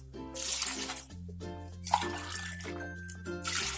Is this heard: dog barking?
no